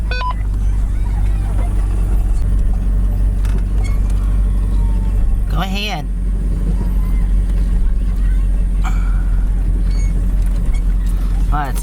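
A car rolls slowly into a place through a tight, small entrance, its low engine rumble and road noise steady and close throughout, with a voice talking over it.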